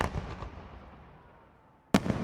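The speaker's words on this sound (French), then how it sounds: "Un feu d'artifice." A firework bursts with a sharp, loud bang after a fading rumble from an earlier explosion, heard outdoors with no talking.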